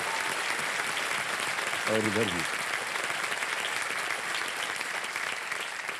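Studio audience on a televised quiz show set applauds steadily and loudly throughout, with a man's brief spoken words heard over the clapping.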